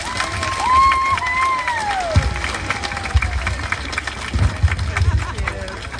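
An audience at the Hospice of San Joaquin Tree of Lights ceremony applauds a young girl, with scattered claps and some cheering over a crowd murmur. Voices are mixed in.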